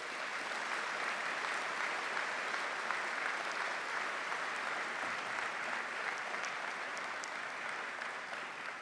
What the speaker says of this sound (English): I would like to applaud all those dedicated members of the faculty.